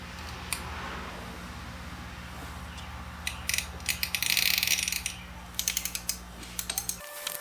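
A ratchet with a spark plug socket clicks in quick bursts while loosening a spark plug on an EcoBoost Mustang engine, close and fairly quiet, with short runs of rapid pawl ticks and brief pauses between them.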